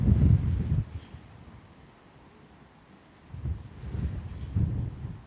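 Wind blows in gusts across the microphone, a low rumbling buffet that swells loudly at first, eases into a quieter lull, then picks up again in strong bursts.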